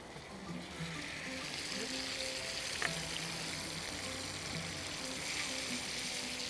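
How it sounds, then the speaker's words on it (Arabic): Chicken for red curry shish tawook fries in a pan with a faint, continuous sizzle that stays even throughout, with no talking. "تعالوا بقى نحط معانا الفراخ"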